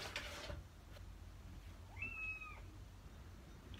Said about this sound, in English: my roommate's cat is being loud